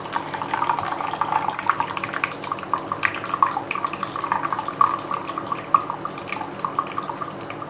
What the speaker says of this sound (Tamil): பெரிய தண்ணியை மட்டும் வடிச்சிக்கணும்